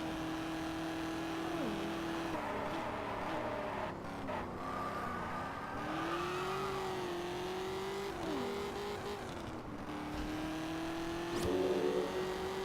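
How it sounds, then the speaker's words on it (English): Simulated racing engine of a supercharged V8 car in Test Drive Unlimited drones and revs with pitch rising and dropping through gear shifts, a steady supercharger whine running over the motor. "Turbo noise on a supercharged V8 car."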